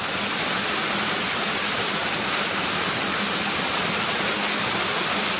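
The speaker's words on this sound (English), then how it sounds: "But there's the waterfall, it's beautiful," A waterfall near Gunnerside roars in a steady, dense wash of rushing water that never lets up, loud and close.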